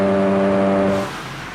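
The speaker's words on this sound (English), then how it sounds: "Rumble strips." A car runs over road rumble strips, giving a loud, steady droning buzz with a strong repeating tone for about a second before it drops to a quieter road hum.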